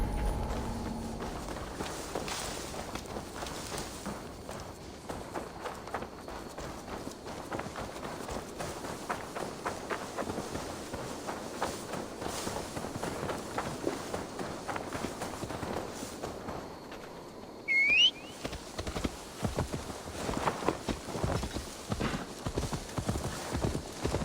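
Horse hooves clip-clop steadily through Assassin's Creed Valhalla gameplay, a continuous moderately loud trotting rhythm over an ambient game soundscape, with a brief pause and a short whinny-like sound near the end before the hoofbeats resume.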